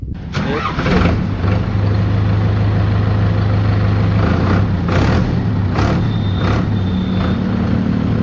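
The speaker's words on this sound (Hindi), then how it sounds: "कमेंट करके ज़रूर बताना भाइयों कैसी साउंड लग रही है ट्रैक्टर की" A loud Sonalika 750 Sikandar tractor engine with a changed silencer cranks and catches, then settles into a steady, throbbing diesel idle close by.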